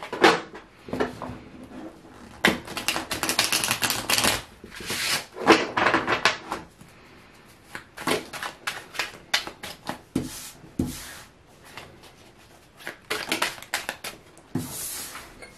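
Tarot cards are shuffled close up in repeated crisp riffling bursts, irregular spurts separated by short pauses.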